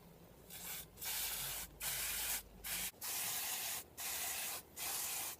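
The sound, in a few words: brake cleaner spray on disc brake components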